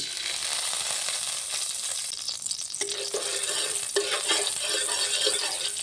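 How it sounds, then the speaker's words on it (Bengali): Semolina roasting in ghee in a kadai over a low flame gives a steady, close sizzle with scraping stir sounds that grow busier partway through, and no voices. "এবারে সুজিটাকে আমি হালকা ফ্লেমে একটু ভালো করে ভেজে নেবো"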